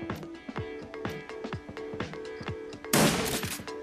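A shotgun fires during a turn-based fight in Shadowrun Dragonfall, one sharp broadband blast standing out over a rapid string of rhythmic, clicking game effects.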